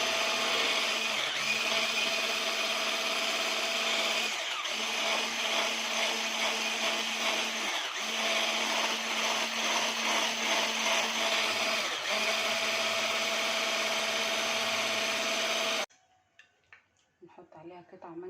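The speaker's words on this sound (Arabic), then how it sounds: "هنقلب بقى المكونات دي كلها ونضربها كده، ممكن في الخلاط برضو عادي" A blender mixing a cold mango dessert whirs steadily for about fifteen seconds at close range, its motor drone briefly dipping a few times, then cuts off into quiet rustling.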